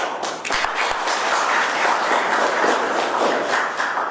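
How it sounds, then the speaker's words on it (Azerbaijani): An audience applauds at a medal presentation and book-catalogue launch event, giving a dense, steady wash of many hands clapping that swells in after a few sharp early claps and keeps on for several seconds. "bu tədbiri bir ürəkdən alqışlayaq"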